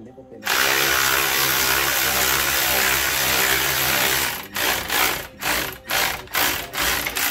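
Power tool or ratchet working a spinning brake caliper pin bolt on a 2007 Chrysler Sebring during a pad replacement, a loud steady mechanical whir for about four seconds, then choppy bursts of spinning with short gaps.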